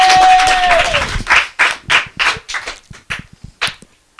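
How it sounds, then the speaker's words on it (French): Brief applause in a small interview studio, a short burst of mixed clapping that breaks into a series of separate, loud, close hand claps spaced irregularly before stopping. "et on les applaudit."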